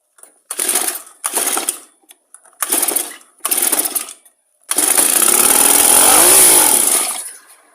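A Honda brush cutter's small engine, primed with brake cleaner, cranks with several short pull-start bursts and then catches, running loud and steady for a few seconds before revving down.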